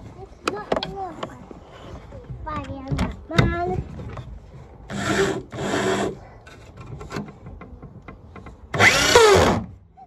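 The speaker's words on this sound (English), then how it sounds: "It's okay, it's just daddy's drill, darling." A power drill drives a screw in several short bursts, close and loud, with a young child crying between and over the runs.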